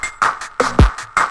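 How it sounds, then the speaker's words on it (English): A short, gritty drum loop bitcrushed with the Fruity Squeeze plugin, crunchy and noisy: a booming kick and noisy snares and hats in a quick rhythm, loud and up close. "What Fruity Squeeze does is it bit crushes your stuff."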